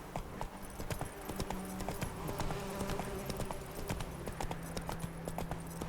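Roach, a horse in The Witcher 3, gallops with a steady, rapid clip-clop of hooves that stays close and loud throughout, with faint game ambience underneath.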